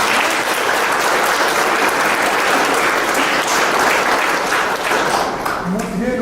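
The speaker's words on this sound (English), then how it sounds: "how about another round of applause for Dr. White?" Sustained audience applause for a lecturer at an evening talk for students, a dense wash of clapping hands that stays loud and even, heard close, with a voice faintly audible near the end.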